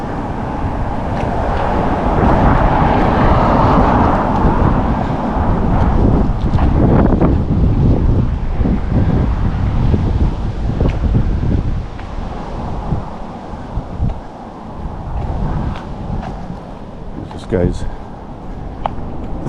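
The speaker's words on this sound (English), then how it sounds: "Yeah, the wind, it's pretty windy." Strong outdoor wind buffets the microphone in a loud, continuous roaring rumble with gusty surges, while someone talks over it throughout.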